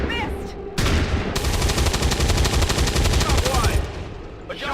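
Sustained automatic gunfire in XCOM 2 rattles in a rapid, loud, continuous burst for several seconds, with quieter game sounds before and after.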